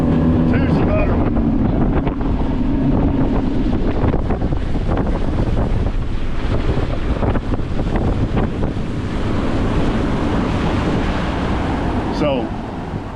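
A Jaguar boat powered by a Mercury 400R outboard runs at high speed near 90 mph, its loud engine roar steady throughout under heavy wind buffeting and water rush, easing slightly at the end.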